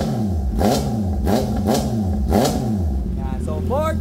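Honda CB650R E-Clutch fitted with an IXIL full exhaust and no dB killer, revved up to around 4000 RPM four times in quick rising-and-falling blips, loud and close, with a voice speaking at the end.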